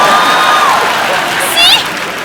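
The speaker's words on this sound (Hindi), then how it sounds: "अच्छा गुरु ठोको ताली" Studio audience at a comedy talk show clapping and cheering, a short burst of crowd noise mixed with excited voices and a few whistles, fairly loud and close.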